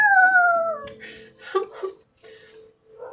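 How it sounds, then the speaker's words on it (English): A dog howls in the background of a home recording, a long sliding wail that falls in pitch, followed by a few short muffled yelps and sounds, fairly close and alone. "I don't know if y'all heard the dog in the background."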